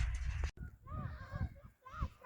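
Geese honk in short nasal calls, a few spaced cries heard over a low rumbling outdoor background, moderately close and fading between honks.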